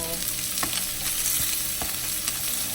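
A pork chop fries in a pan with a steady, loud sizzle, broken by a few sharp scrapes or stirring knocks spread across the stretch, and no one speaking.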